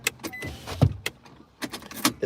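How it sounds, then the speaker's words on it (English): Car power window rolling up, a short faint electric motor whir among scattered clicks and rustles inside a parked car. "so we'll roll the window up"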